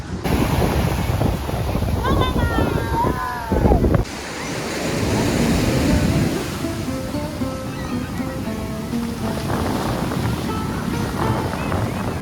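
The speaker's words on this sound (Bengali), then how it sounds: "সমুদ্র সৈকতে" Sea waves wash continuously on Puri beach amid heavy wind buffeting the microphone, with a steady roar and faint calls in the distance.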